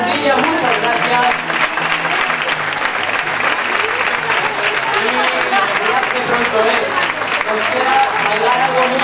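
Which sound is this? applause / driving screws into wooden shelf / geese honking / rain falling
applause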